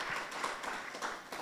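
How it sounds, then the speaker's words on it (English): Quiet applause from a forum audience honoring a panel moderator at a health systems event, a steady patter of many hands clapping without voices on top. "A round of applause to Doreen as well"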